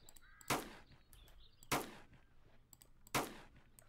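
Heavy pistol firing in the Island Royale battle royale game, three loud sharp shots spaced about a second apart, each standing alone above faint background game sounds.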